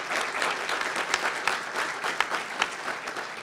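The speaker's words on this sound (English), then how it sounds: "we should probably give them a round of applause" An indoor audience at a political conference claps for military members in the room, a dense, steady round of applause that holds at an even level from start to finish.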